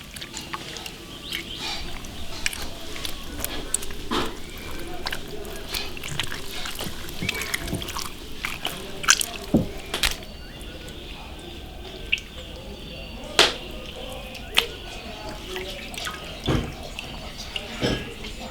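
An octopus's suckers scrubbed clean of mud in a basin of water, with close splashing, dripping and sloshing, irregular sharp drops and hand movements throughout, and a voice talking at times.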